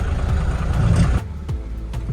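An Ashok Leyland Bada Dost i6 pickup truck, 11-foot deck running empty, hums and rumbles steadily while driving, with a few sharp knocks and thumps as the unladen body bounces over the road.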